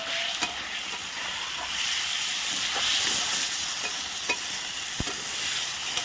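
Masala sautés in hot oil in a pan, a continuous close sizzle and hiss with occasional soft stirring clicks and scrapes, and no voices over it.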